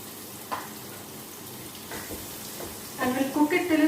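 Chopped onion frying in oil in a pan for a fish gravy, a faint low sizzle with a few light clicks, followed near the end by a voice speaking over it.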